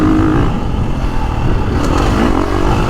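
KTM 350 Factory Edition off-road motorcycle engine, loud and close, a continuous buzzing four-stroke drone with slight revving swells and rattling clatter as the bike rides along.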